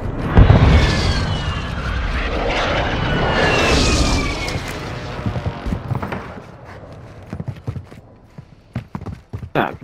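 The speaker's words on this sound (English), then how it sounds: "Stun grenade out." A stun grenade goes off in a Call of Duty match, a loud blast at the start followed by a sustained ringing, whining roar that slowly fades, then scattered footsteps and clatter toward the end.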